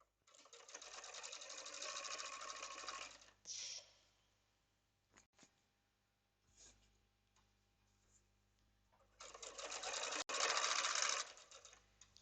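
A sewing machine topstitches trousers in two bursts of rapid whirring stitching, long at the start and again near the end, with quiet clicks and handling noises in between.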